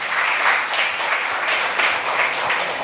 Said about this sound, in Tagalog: Ang mga handa na ay muling pumalakpak sa ating Panginoon.